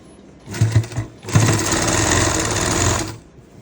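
A sewing machine stitches a lined sleeve seam, running in two short bursts and then one steady, loud run of about two seconds, with no talk.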